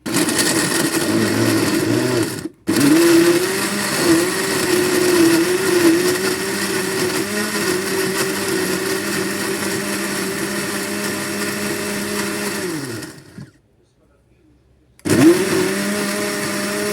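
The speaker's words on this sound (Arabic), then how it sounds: "جبنا الخلاط بتاعنا اهو" Kitchen blender whirring steadily as it purees raw tomatoes, onions, garlic, peppers and water, loud and close, briefly cut off twice before starting up again.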